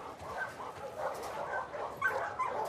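A dog whimpers and whines in The Last of Us Part II, a string of soft high yips and pleading cries close by, rising near the end into sharper squeaks.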